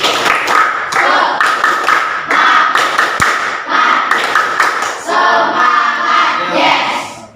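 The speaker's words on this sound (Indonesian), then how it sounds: "Coba tepuk semangat." A group in a classroom ice-breaking session performs a rhythmic spirit clap (tepuk semangat), loud claps in patterned bursts mixed with chanted group voices, ending in a shared cheer.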